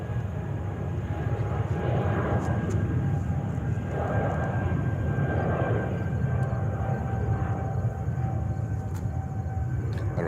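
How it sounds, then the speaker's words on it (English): A JetBlue Airbus A321-200 jet airliner leaving JFK for Las Vegas, a faint, distant, steady engine rumble with thin tonal whines layered over it, and no voices. "JetBlue flight 1211 to Las Vegas, Nevada. On a 321 CEO 321-200."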